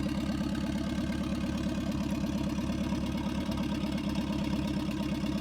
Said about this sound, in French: Regardez le son du moteur